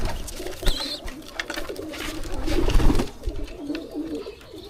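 Racing pigeons coo softly at close range while being fed, low throaty calls rising and falling amid light fluttering and rustling.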